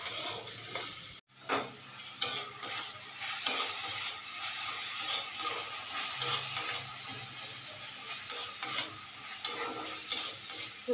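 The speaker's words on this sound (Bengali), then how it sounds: "সয়াবিনটা সেদ্ধ করে নিয়েছি নুন দিয়ে এখন একটু ভেজে নিচ্ছি" Boiled, salted soybean chunks frying in a pan, a steady close sizzle with intermittent stirring scrapes and clicks throughout, after a brief dip near the start.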